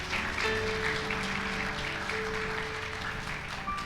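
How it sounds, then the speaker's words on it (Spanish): A church congregation applauds in praise, a moderate, even wash of many hands clapping, heard from some distance with faint tonal sounds ringing through it. "Vamos a aplaudir a Cristo."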